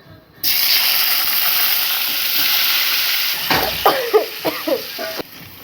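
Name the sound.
potatoes frying in hot oil with dried chillies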